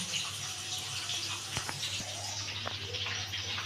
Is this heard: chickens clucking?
no